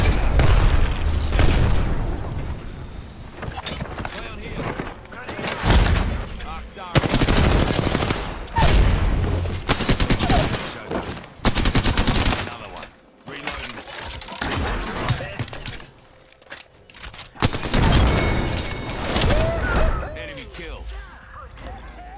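Repeated bursts of gunfire and booming blasts in the video game Apex Legends, including a thermite grenade, loud and close in heavy volleys separated by short pauses, with a player talking between them.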